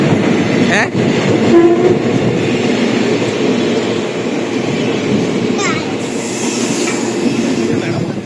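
A passenger train runs past loudly and steadily with a rumbling wheel roar, and a brief horn blast sounds near the start while the rattling continues underneath.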